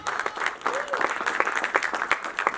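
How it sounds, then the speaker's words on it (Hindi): Audience applause at a film trailer launch event for the star cast, a continuous patter of many hands clapping nearby with a few louder individual claps and a brief voice briefly audible within it. "प्लीज एक तालियां इनके लिए होनी चाहिए।"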